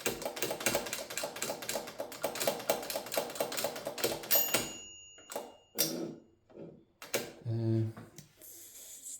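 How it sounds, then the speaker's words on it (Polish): A Mignon 4 typewriter clatters through a run of rapid keystrokes, then its carriage bell rings once with a clear, lingering ding, followed by a few scattered mechanical clicks and a voice speaking. "Gdy wózek zbliży się do końca, pojawia się charakterystyczny dźwięk dzwonka."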